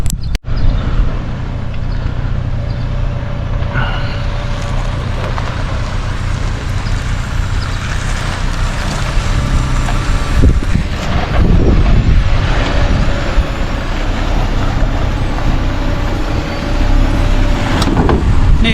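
An off-road car engine works over a rocky trail obstacle, a steady close rumble with revving surges and knocks and scrapes from the terrain, running for nearly twenty seconds.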